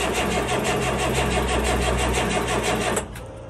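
Diesel truck engine cranking over on a cold winter day, a loud steady rhythmic churn that runs for about three seconds before cutting off abruptly into a quieter low hum.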